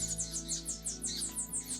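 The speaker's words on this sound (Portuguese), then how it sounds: "O dia amanhece trazendo a passarinhada." Birds at dawn in a park, with a rapid series of high, repeated chirps in a steady rhythm over low background hum, fairly close and moderately loud, with no talking.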